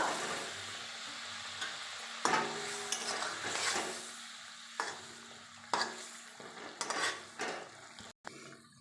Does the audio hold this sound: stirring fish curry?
yes